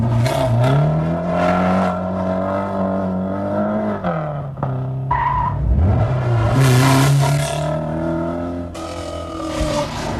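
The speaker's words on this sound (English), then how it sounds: "the Renault Turbo is not at its best on the tight twisting roads in Inishowen" A Renault Turbo rally car works hard on tight, twisting roads at the 1981 Donegal International Rally in Inishowen. Its engine drones loud and close, pitching up and down with revs, and a brief tire squeal cuts through midway.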